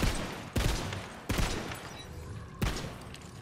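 Loud, close gunfire in the video game Tiny Tina's Wonderlands, three heavy blasts about a second apart, each trailing into a dense rumbling tail.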